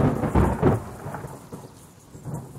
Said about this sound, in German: jetzt muss auch gewittern